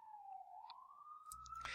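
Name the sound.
sirens in the background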